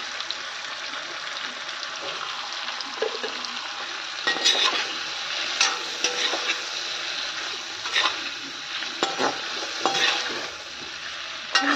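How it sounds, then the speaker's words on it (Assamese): Onion and green chilli frying in a pan with a steady sizzle, broken by repeated scraping stirs of a spatula that grow more frequent toward the end. "ইফালে মই পিঁয়াজ আৰু জলকীয়াখিনি অকণমান ভাজি ল'ম"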